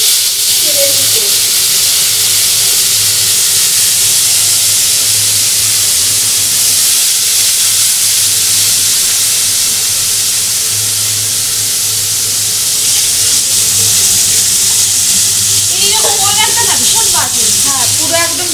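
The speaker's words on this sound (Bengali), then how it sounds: "বন্ধুরা এবার মাছগুলো দিয়ে দিচ্ছি তেলের ভিতর।" Fish drops into hot oil and sets off a loud, continuous sizzling hiss that persists throughout, with voices talking over it near the end.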